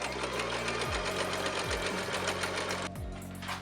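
Sewing machine top stitching petticoat skirt panels lined with horsehair: a fast, steady mechanical whir of the needle close up, with a couple of brief slowdowns as the stitching runs continuously.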